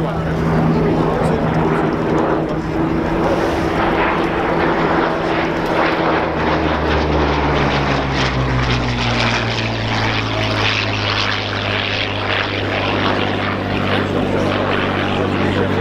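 Hawker Hurricane at an air show, its engine and propeller droning loudly and continuously overhead, the pitch slowly dropping as it passes, while someone talks over it.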